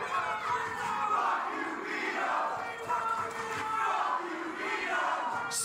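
A wrestling crowd at a Juggalo Championship Wrestling show shouts and roars steadily, a dense wall of voices that stays loud throughout without easing off.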